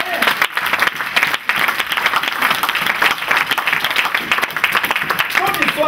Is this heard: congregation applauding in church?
yes